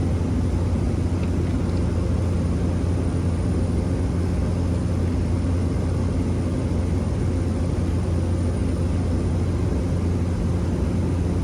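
Steady, loud cabin drone of a Cessna Caravan C208 single-engine turboprop in flight on a Southern Airways Express trip, a constant low propeller and engine roar filling the whole stretch with no voices.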